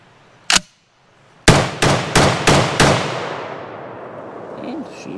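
A Dutch FN FAL rifle fires outdoors: one loud shot, a pause, then four more sharp reports in quick succession, each ringing out with a trailing echo.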